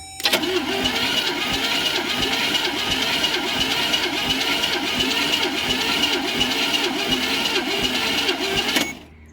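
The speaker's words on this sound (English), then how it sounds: "I will crank this. It says let it turn over about 8 times." A Jeep Comanche engine cranks over steadily on the starter during a compression test, a loud, even rhythmic churning of about a dozen turns that stops abruptly at the end, with no talk.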